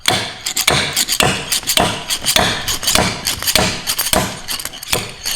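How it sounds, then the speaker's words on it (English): Repeated hard metallic thumps from a slide hammer popping a cap off a BMW ZF five-speed manual transmission, struck in quick irregular succession, close and loud with no talking. "Now with the slide hammer in place, we're just going to pop off the cap."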